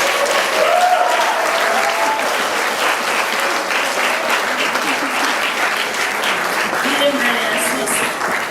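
An audience at a university arts awards ceremony gives sustained, full applause, dense clapping from many people with faint voices mixed in beneath it.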